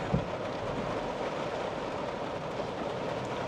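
Heavy rain pours down onto a parked car during a sudden, violent storm, a dense, steady roar of water that holds an even level throughout, with no voices.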